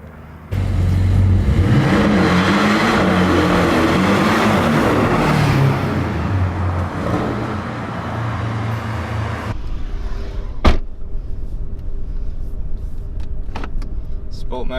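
Porsche 718 Cayman S engine in sport mode with exhaust valves open, a steady loud drone with rising revs heard from inside the cabin, then easing to a quieter hum with a few clicks and light cabin noise.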